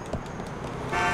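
A car horn toots in Grand Theft Auto IV, a short honk near the end rising over a steady hum of city traffic and engine noise.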